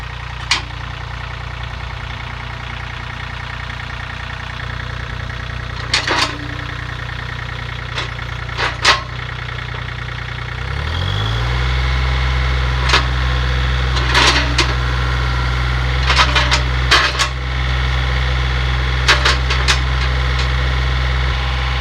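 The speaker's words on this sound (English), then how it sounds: "now I want to demonstrate how quickly this tractor cycles through the hydraulics" A John Deere 3025E compact tractor idles steadily with a low engine drone, which rises and thickens midway as the loader hydraulics are cycled quickly, with intermittent clicks and clunks from the loader throughout.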